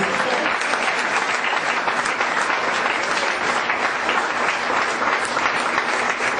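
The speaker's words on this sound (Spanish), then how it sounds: "Brindémosle un fuerte aplauso a Jesús." A church congregation gives a loud, sustained round of applause during a Spanish-language sermon, with dense clapping at an even level throughout.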